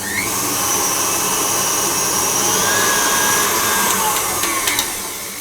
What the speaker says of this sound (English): I'm going to scrape down my bowl during this process to make sure that nothing gets stuck to the bottom.